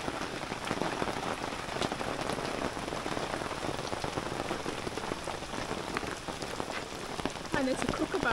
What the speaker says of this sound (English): I saw the rain coming off the awning